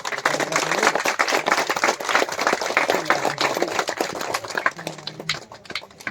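At a rural Makar Sankranti gathering in an Odisha village, after a final match, a small group claps in uneven bursts of hand claps that taper off toward the end.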